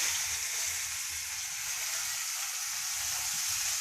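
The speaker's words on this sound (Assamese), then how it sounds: "এতিয়া মই পিঁয়াজখিনি দি ভাজি ল'ম" Onions frying in oil in a pan while cooking a beet and rohu fish curry, giving a steady, soft, continuous sizzle with no voices.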